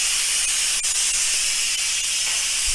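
Steam hisses steadily from an Instant Pot's pressure release valve, a loud, continuous broadband rush with no pauses and no talking.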